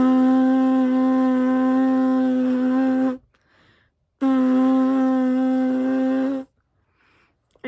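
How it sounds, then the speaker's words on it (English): Buzzing lips, practised as French horn preparation, make two sustained, steady pitched buzzes of about three seconds each, close and fairly loud, separated by a short silence. "blow lots of air, and your lips should start buzzing"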